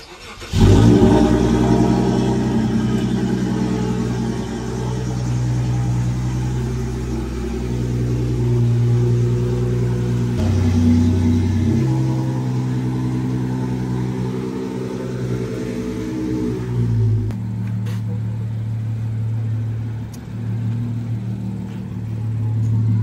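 A Toyota Mark X cold-starting and idling high, its engine droning loud and close with a rev partway through, then dropping to a lower steady idle near the end, with no talking.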